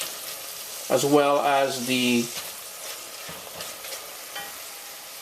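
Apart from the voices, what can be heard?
curry powder frying and being stirred in oil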